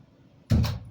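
A dog scratches and paws at a door. After a quiet start, a short, rough, close burst of scraping noise comes in about halfway through.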